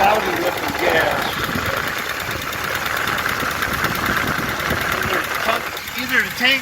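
A 1970 Ford Falcon engine runs steadily on cloudy fuel after the fuel pump picks up, a close, continuous idle with mechanical clatter and a brief rise near the end.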